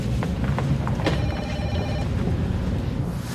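A telephone bell rings steadily under a busy, noisy live-show background, the repeated ringing staying fairly clear through the crowd noise.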